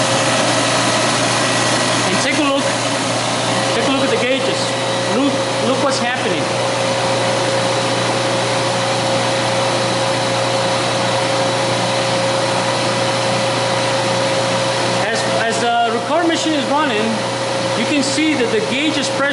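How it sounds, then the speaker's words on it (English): A refrigerant recovery machine recovering Freon runs with a loud, steady motor drone and a constant tonal hum, joined by brief voices now and then. "I'm gonna turn on the recovery machine."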